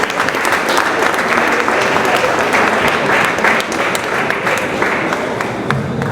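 An audience at a civic awards night honouring local champions in Saint-Claude applauds a man called to the stage, loud sustained clapping, close and dense, with a few sharper individual claps standing out.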